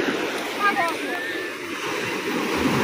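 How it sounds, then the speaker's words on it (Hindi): Sea waves wash onto the shore in a steady, broad rush with wind noise on the microphone, while children's voices chatter faintly above the surf. "पानी आ रहा है"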